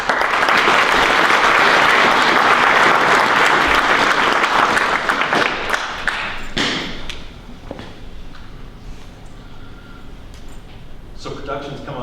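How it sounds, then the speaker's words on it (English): An audience applauds loudly, a dense wash of clapping that gradually thins and fades, with a few scattered thumps and the murmur of people toward the end. "Give yourselves a round of applause."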